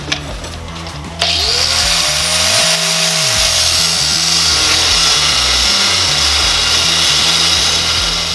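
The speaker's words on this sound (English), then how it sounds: "I'm gonna cut another strip out like this off the flat stock." A power tool cuts a strip off steel flat stock while a motorcycle rack is built for a Honda CL350. A short clatter comes first, then the tool whines up and grinds on loudly and steadily to the end.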